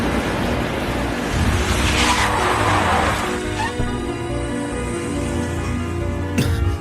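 A car brakes hard and skids to a stop, a long loud tire screech and engine roar that builds, peaks, then fades, ending with a sharp thump, up close with no talk.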